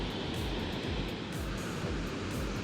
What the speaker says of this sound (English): See, this is Gaganchuki Waterfalls in Mandya district.